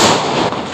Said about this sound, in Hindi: इतना पटाखा का शोर था ना कि मैं भी डर जा रही थी